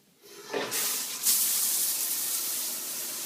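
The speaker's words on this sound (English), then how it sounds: "Let's turn the water on." Shower water switched on, a faint start that surges into a strong steady hiss of spray and keeps running close by, with no voices.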